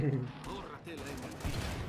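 Rapid bursts of gunfire ring out in the co-op zombie shooter Killing Floor 2, a quick string of shots mixed with game effects while players talk over it.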